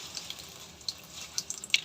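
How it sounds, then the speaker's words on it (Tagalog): Tap water runs from a faucet over a foam waste-ink pad from an Epson printer, a quiet, steady watery hiss with a few small splashes and drips throughout, with no voices. "isasahod lang natin siya sa gripo"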